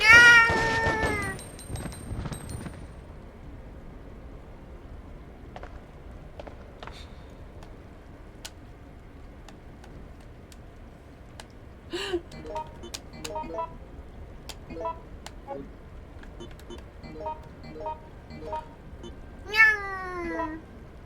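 A cat in the video game Resident Evil Outbreak File #2 lets out a loud, drawn-out meow at the start. Quieter, scattered meows and small noises follow over a near-silent background.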